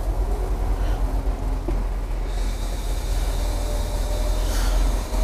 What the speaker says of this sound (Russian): Слышим утечку воздуха.